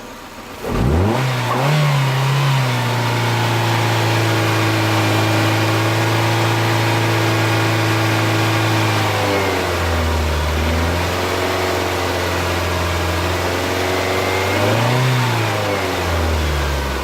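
A car engine running on 100% ethanol revs up from idle and holds a steady raised pitch, drops back briefly, then surges again, loud and close with no talking.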